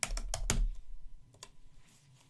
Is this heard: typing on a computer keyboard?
yes